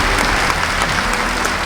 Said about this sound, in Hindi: एक बार आप पहले अपनी जोरदार तालियों से मुझे आदेश दें